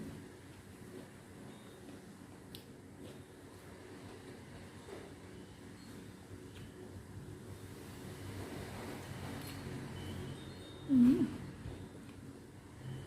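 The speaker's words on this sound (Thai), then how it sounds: "ลมแรง" Strong wind blows outdoors as a steady low roar and rush that swells in the second half, with a brief voice near the end.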